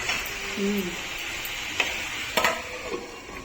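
Spiny gourd curry is stirred in a cooking pan, with soft scraping and a few sharp utensil clinks against the pan over a faint sizzle, while someone speaks quietly.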